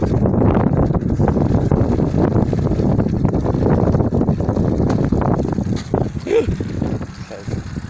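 Steady gusts of wind buffet a microphone outdoors beside the Main river, producing continuous low rumbling noise throughout with brief dips near the end.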